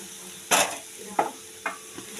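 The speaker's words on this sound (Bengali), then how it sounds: "এবার আমি অফ করে দিয়ে এটাকে ম্যাশ করে নেব" Boiled peas being mashed in a pot after the heat is switched off, for a matar kachori filling: three separate soft squishing presses with a short scrape each time, close by and fairly quiet, with no voice.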